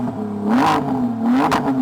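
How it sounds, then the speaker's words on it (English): A car engine revs twice, each rise sweeping up in pitch and falling back, loud and close with no talking over it. "And finally, Camilo, will you rev up your car?"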